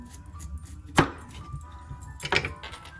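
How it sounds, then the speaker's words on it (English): Skin-on potatoes are sliced into quarters on a cutting board, with two distinct knife chops against the board amid quiet handling noise. "So I just cut them like in fours."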